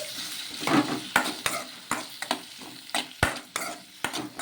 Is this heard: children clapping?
no